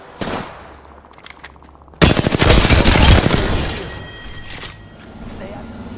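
Automatic gunfire in the battle royale game Apex Legends, with a short burst at first and then a loud, dense barrage of rapid shots that gradually thins out, with some chatter faintly underneath.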